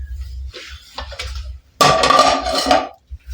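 Metal frying pans clatter as they are handled and set aside in a workshop, a loud burst of clanking metal after quieter shuffling and knocks.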